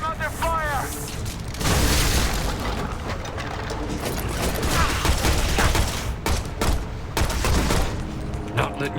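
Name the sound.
gunfire in the video game Shadow Complex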